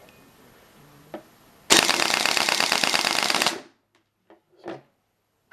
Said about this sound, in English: So they will semi-auto when the selector's in semi-auto and full auto when in full auto.